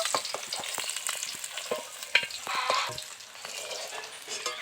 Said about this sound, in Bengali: বাকি মাছগুলোকেও আমি এইভাবে ভেজে নেব